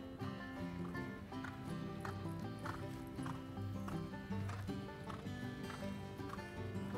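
A horse canters during jumper course schooling, its hooves thudding in a steady rolling rhythm. Music plays prominently over the hoofbeats.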